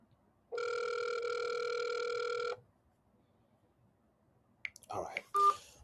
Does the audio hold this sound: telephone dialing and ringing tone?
yes